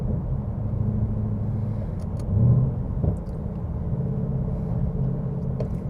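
Ford Mustang Bullitt with a Whipple tune and auto rev match, its engine rumbling steadily and close by, swelling briefly midway before settling back to a constant drone, with no voices.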